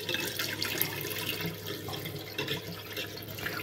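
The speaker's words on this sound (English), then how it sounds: "Again, I'm going to pour as much water out as possible." Rice-washing water from Thai sticky rice preparation pours steadily into a sink, a continuous splashing stream with no voices.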